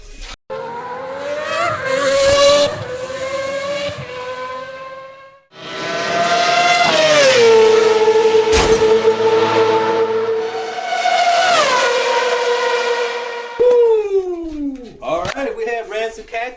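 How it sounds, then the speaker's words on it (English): Drag race between a 1970 Chevelle SS wagon and a Mercedes 500E: loud engines rev up and accelerate hard in two long roaring pulls with rising pitch, then a shift and fading wind-down, with a commentator talking over it. "Got Rancid Cactus in the 1970 Chevelle SS wagon. And we have RWA Racing in that 500E Benzo."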